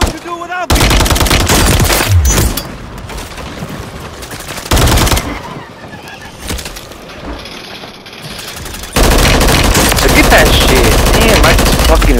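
Gunfire in a shooter game, loud rapid automatic bursts that cut in and out in long stretches of sustained firing, broken by quieter gaps where a voice is faintly heard.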